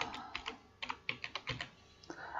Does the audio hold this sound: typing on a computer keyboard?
yes